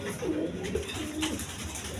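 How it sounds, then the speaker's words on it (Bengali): Farm-bred pigeons, including a green-necked bird, coo softly in short rolling phrases, close and fairly quiet against a faint background hum. "এগুলো খামারি কবুতর"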